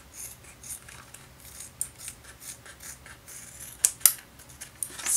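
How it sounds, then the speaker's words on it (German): Scissors cut through Worbla thermoplastic sheet in a series of quiet snips and rubs, with a few sharper, louder cuts near the end. "einfach mit der Schere mit einem wenig Abstand drüber schneiden"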